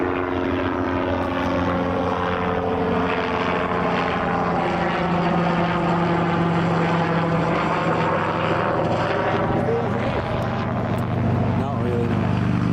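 An EasyJet airliner arriving at Newcastle International Airport sends a loud, continuous engine roar that swells and holds steady throughout.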